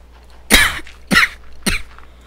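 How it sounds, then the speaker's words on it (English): Three separate, sharp coughs come from a person indoors. They are close and loud with short pauses between them, and there is no speech. "I am very sorry that I'm coughing, guys."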